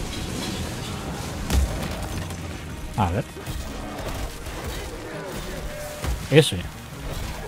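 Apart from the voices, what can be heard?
explosion from a firecracker in video game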